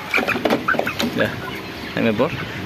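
A 1600-gram rooster raised for 28 days clucks and squawks in short repeated bursts close by while being weighed, with a voice talking alongside.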